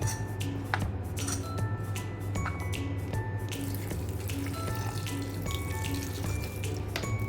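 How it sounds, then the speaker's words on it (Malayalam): Half a cup of water poured into a cooking pan of Chinese potatoes, a continuous close splashing wash of water over a low steady kitchen hum, with occasional light metallic clinks and no voices. "ഒരു 1/2 കപ്പ് വെള്ളം ഒഴിച്ചു കൊടുത്തിട്ടുണ്ട്."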